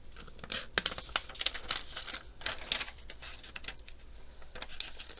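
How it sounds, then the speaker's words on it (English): Scissors cutting out a paper piece for a decorated journal page, a close run of crisp snips and paper crinkles with irregular rhythm, no talk. "And then I'll cut that out."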